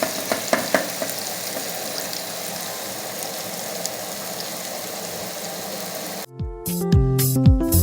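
Onions sizzle steadily in a hot pan, cooking for a catfish dish, with a few stirring clicks early on; the frying noise stops abruptly near the end and gives way to other sounds.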